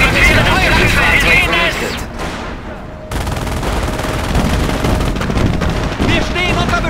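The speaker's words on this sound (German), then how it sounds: "Wir stehen unter Beschuss!" Gunfire in the tank combat game Panzer Elite crackles as loud, continuous bursts and rattling shots, dropping briefly into a swell before the shooting resumes, with voices in the game calling out over it.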